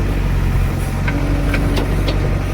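A tractor engine idles at close range, a steady loud rumble with faint higher clicks over it.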